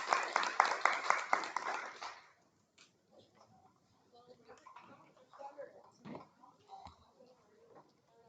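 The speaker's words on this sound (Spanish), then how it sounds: "Aplauso." Applause from a class at the end of a university methodology lesson, a burst of clapping for about two seconds that fades out, followed by scattered voices saying goodbye.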